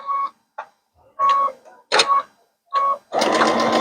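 A sewing machine stitches a pillowcase seam with the needle set far right for a 3/8-inch seam, running in several short, close bursts separated by pauses before one longer, steady run.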